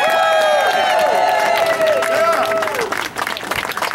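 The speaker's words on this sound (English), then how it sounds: "Let's give them a big round of applause." Crowd applause and cheering at an outdoor anti-Trump protest rally in San Leandro, a sustained wash of clapping mixed with voices and shouts that fades out near the end.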